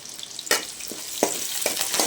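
Curry leaves sauté in a pan with a soft continuous sizzle, punctuated by several sharp scraping strokes of a spoon stirring them.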